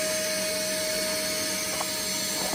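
A shop vacuum's hose sucks broken pieces out of an engine cylinder after an airbox failure, giving a loud, constant whine and rush with a steady tone and a couple of faint rattles near the end.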